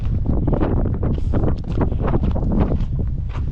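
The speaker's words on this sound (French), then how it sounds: "Pour pas changer, il y a du vent" Coastal wind in the Calanques near Sormiou buffets the microphone, making a loud, rough, continuous rumble with gusty flutters throughout.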